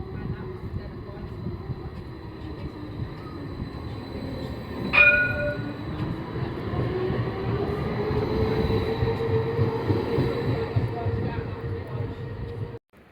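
A tram running through Edinburgh streets, a steady rolling rumble with a rising whine as it moves and a short bright signal tone partway through, loud and continuous.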